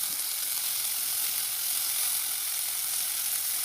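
Onion masala for prawn curry frying in oil in a pan, giving a steady, even sizzle and hiss with no breaks, moderately faint and close, with no talk over it.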